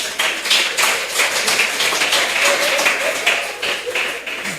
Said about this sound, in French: Et ça, on peut applaudir.